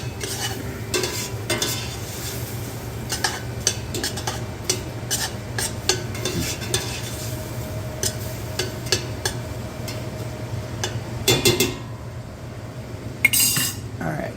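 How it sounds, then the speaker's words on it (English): A spoon stirring seasoned salt and granulated garlic through chili in a pot, with repeated metallic scrapes and clinks against the pot over a low sizzle, close and continuous. "Stir that through."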